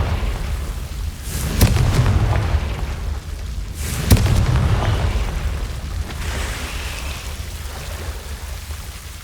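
Confringo spell explosions in Hogwarts Legacy, two sharp blasts with deep booming rumbles, a few seconds apart, over a constant low roaring game background.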